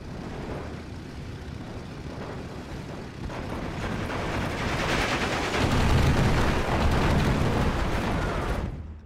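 Aircraft making strafing runs in the Steel Division 2 wartime strategy game: a dense, continuous roar of gunfire and explosions that swells louder toward the end before cutting off.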